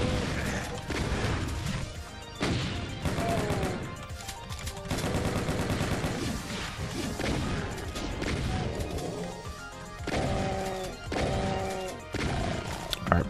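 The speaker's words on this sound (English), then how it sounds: "I'll kill this revenant with a freaking baby shotgun." Shotgun blasts from a Doom II player firing at a revenant, loud repeated shots mixed into dense, driving game music that runs the whole time.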